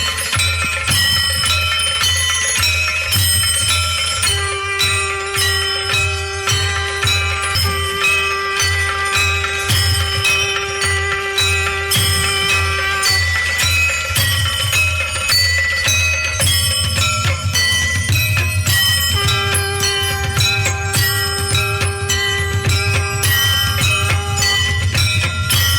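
Bells ring continuously and loudly at a devotional birth celebration, a dense, shimmering clangor of many overlapping metallic strikes with sustained tones layered over a low rumbling bed throughout.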